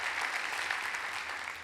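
A short burst of audience applause at a tech awards event, soft and steady clapping from a crowd heard at a distance.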